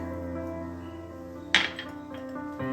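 Spoon scraping and clinking in a pan while salt is mixed into tondekayi rice, one sharp clatter midway over a steady hum.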